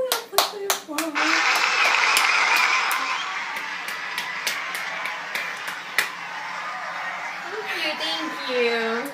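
Applause greets two presenters at a home-made show: a burst of hand clapping from a small group, close and fairly loud, with a few cheers and voices talking over it.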